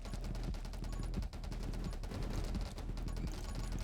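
Rapid enemy laser fire in the 20 Minutes Till Dawn video game, a dense, steady burst of repeated shots lasting several seconds with no talking.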